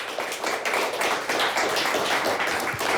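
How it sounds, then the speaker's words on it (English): A quiz-show audience gives both teams a round of applause, brisk close-up clapping with audible individual hand strikes in a quick, uneven rhythm. "Another nice round of applause for both teams here tonight"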